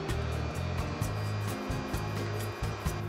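A Bosch MaxxiMUM kitchen machine running at speed level 3 while mixing pasta dough, a steady loud motor drone with a rhythmic, slightly wavering mechanical churn throughout.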